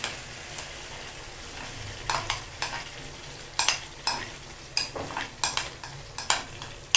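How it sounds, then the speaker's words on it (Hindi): Cream is stirred into chicken malai in a hot pan, a soft sizzle underneath irregular scraping and clinking of the spoon against the pan, growing busier toward the end. "और इसको अच्छे से मिक्स कर लेंगे।"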